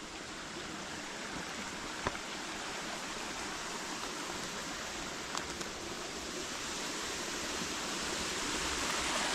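Steady broadband rush of a waterfall beside a creek in the woods, continuous and fairly close, with a couple of faint ticks and no voices.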